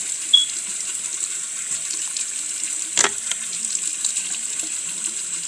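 Warm tap water runs steadily from a bathroom faucet while someone wets their face, a constant hissing flow with a brief splash near the middle.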